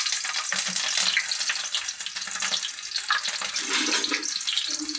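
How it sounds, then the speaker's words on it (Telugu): Mustard seeds, fenugreek and green chillies fry in hot oil, giving a dense, steady crackling sizzle with small bursts of popping that runs unbroken and fairly close for the whole stretch. "నూనె గరం అయిన తర్వాత ఆవాలు మెంతులు వేయాల. ఒక 2 పచ్చిమిరపకాయలు వేసుకోవాలి."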